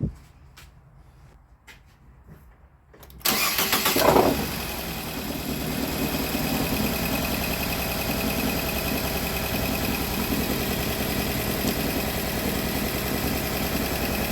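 A Nissan Cube fresh from auction cranks and starts after a few quiet clicks, its engine catching with a brief rev before settling into a steady, close idle.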